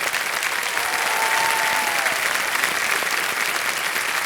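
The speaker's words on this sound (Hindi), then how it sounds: "तालियां बजते रहें इनके लिए।" Sustained applause from a studio audience for a male contestant on a Hindi game show, a dense, even wash of clapping that holds steady throughout.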